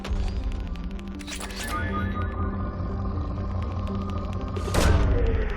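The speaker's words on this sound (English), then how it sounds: "Launching probe." Probe launch in the video game Mass Effect 2: a deep rumbling boom and a whooshing burst, then a second sharp burst near the end, loud over a low electronic hum.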